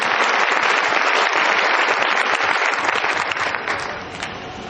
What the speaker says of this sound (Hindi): एक बार जोरदार तालियों के बीच थैंक यू।